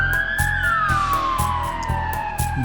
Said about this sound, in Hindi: पुलिस का सायरन बजता है